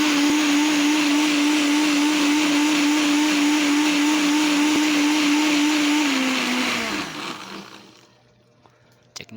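Blender crushing chili peppers with spiced vinegar, a loud, steady motor whir that holds for about six seconds, then winds down and stops, followed by faint clicks.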